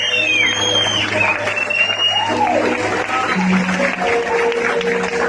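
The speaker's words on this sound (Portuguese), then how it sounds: "Aplauda a vida deles" Applause from a church congregation during a worship service, a dense wash of clapping filling the room, with music and voices blending underneath.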